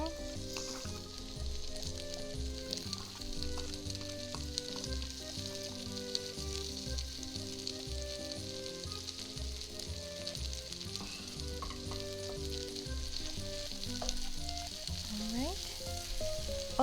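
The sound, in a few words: onions frying in a pot for one pot pasta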